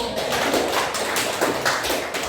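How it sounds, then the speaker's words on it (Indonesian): A classroom audience claps for student groups, a dense, steady patter of many hands held at an even, loud level throughout with no speech. "kita beri aplaus buat kelompok 3 dan kelompok 1"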